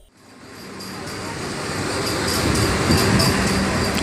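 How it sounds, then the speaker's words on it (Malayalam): Boarding a train, a steady rumbling carriage hum swells from near silence and holds loud and continuous, with faint higher mechanical whines and clanks layered over the low drone. "ഞാൻ ട്രെയിനിലേക്ക് കയറി ഇവിടെയാണ് എൻ്റെ സീറ്റ്"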